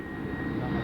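A United States Navy aeroplane's engine drones steadily and loudly at an outdoor air show, a brief continuous roar with no talk over it.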